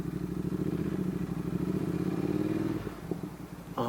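A Triumph Thruxton R with a DCAT X pipe and aftermarket slip-on silencers rumbles on overrun, a loud close pulsing exhaust burble that fades slightly toward the end.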